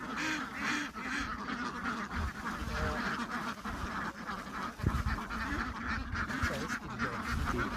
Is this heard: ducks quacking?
yes